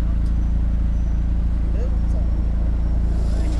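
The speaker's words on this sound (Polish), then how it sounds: "Seat mruczy bardzo groźnie." A Seat Cupra engine idling through an exhaust system with engine-sound enhancement, a deep, steady, menacing rumble that holds evenly throughout.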